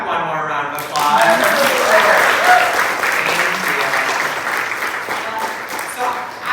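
A round of audience applause at a film and TV talk, steady and dense throughout with a murmur of voices beneath the clapping.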